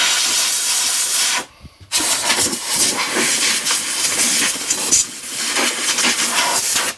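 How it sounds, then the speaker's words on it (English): Compressed air blows dirt off an ATCO lawnmower near the oil filler, a loud, steady hiss that cuts out for a moment and then resumes. "We get a bit of a blow off as well, because I don't want to put no dirt in the oil filler around this side here."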